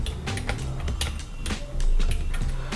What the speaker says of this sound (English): I'm just using the keyboard that's placed on top of my Mac right now.